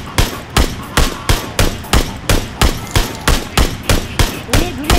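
Rhythmic gunfire in PUBG (Battlegrounds), a loud steady series of about fourteen evenly spaced close shots over five seconds, each a sharp crack with a short tail, no voices heard.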